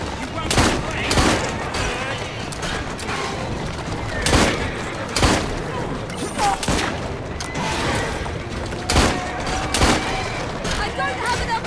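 Gunfire in Assassin's Creed Syndicate: repeated sharp shots and bursts crack out in irregular clusters over a busy game mix, with voices talking intermittently underneath.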